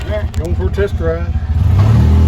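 The engine of a 2008 Polaris Ranger utility vehicle hums low and steady while it pulls away on a test drive, with someone talking over the running motor.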